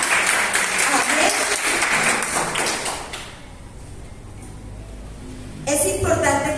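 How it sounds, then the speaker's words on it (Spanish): A church congregation bursts into loud, sustained applause and clapping, fading after a few seconds, then rising again near the end. "Denle un fuerte aplauso al Señor, porque Él nos da palabras de vida."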